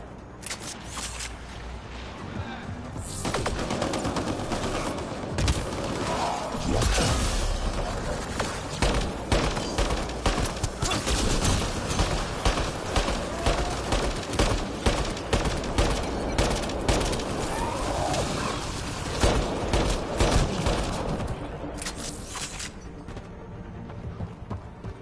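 Dense, sustained gunfire in a Mass Effect Andromeda battle, with rapid repeated shots and bursts rattling for about twenty seconds before tapering off, loud and continuous.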